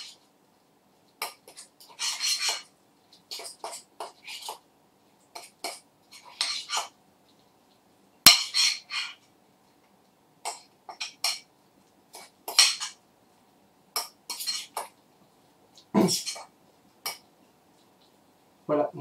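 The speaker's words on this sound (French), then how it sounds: "Et donc mélangez une dernière fois l'ensemble." A spoon scrapes and clinks against a bowl while tuna mousse seasoned with salt and pepper is mixed, in short irregular bursts separated by quiet pauses.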